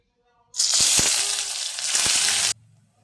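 Onion hits hot oil in a pan and bursts into a loud, close sizzle that holds for about two seconds, with a few soft stirring knocks, then stops suddenly.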